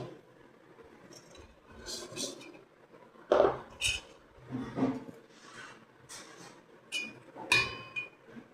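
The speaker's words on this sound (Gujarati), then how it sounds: "આમાં બધે મિક્સ કરી દઈએ બધું મસાલો" Mango pickle with carrot and fenugreek being mixed with masala in a pot, giving scattered metallic clinks and scrapes of a spoon against the vessel at an irregular pace, fairly close, with no talk.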